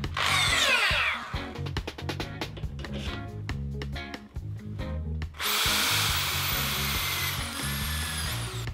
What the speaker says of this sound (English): Now I drill through this hole